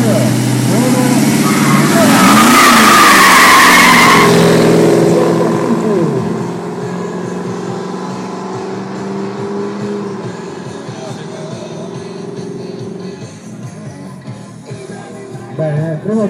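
Drag race cars launch and accelerate at an American Motor Party meet in San Vito al Tagliamento, Italy, with a loud roaring surge early on that fades into a distant engine drone while people talk.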